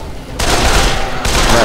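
Sustained automatic gunfire in the video game Dead Island rattles loud and close in two bursts separated by a brief break, with no talk over it.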